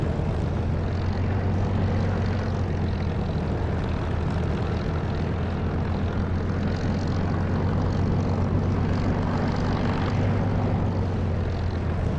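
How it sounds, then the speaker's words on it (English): Spitfire piston aircraft engine in the DCS flight simulator, running with a custom engine sound: a steady, loud, continuous propeller drone with a strong low hum holding even throughout, nothing else intruding. "This Spitfire is now running on an engine sound produced by Echo 19, and it's better than the DCS sound."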